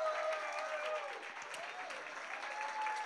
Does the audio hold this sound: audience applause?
yes